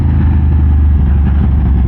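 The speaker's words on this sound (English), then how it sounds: "That's exhaust pretty loud" A loud, close Aprilia RS 660 sport motorcycle engine idles with a deep, steady exhaust rumble, brief and continuous, with no voices.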